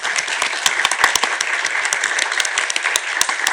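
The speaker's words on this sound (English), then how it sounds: "just a round of applause to say thank you for what you've done for us" A keynote panel audience gives a round of applause for the organizers, with crisp individual claps standing out sharply from a lively, continuous patter.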